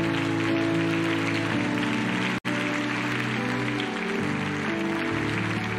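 Applause from a church service congregation, a dense and steady roar of clapping that continues throughout over sustained music, broken by one very brief dropout midway.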